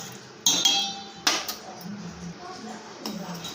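A spoon stirs milk in a pot on a stove over a low flame, giving a couple of sharp metallic clinks followed by a steady, softer scraping against the pan.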